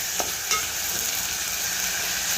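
Onions, tomatoes and meat frying in oil for a gravy, a steady close sizzle with a couple of sharp stirring scrapes near the start.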